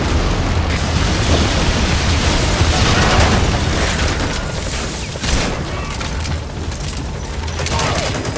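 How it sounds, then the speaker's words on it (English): Helicopter rocket salvo in Metal Gear Solid V: The Phantom Pain, a continuous roar of launches and explosions with dense rumbling blasts, loud and unbroken throughout, with voices talking over it. "Cover fire. In hot. Rockets away."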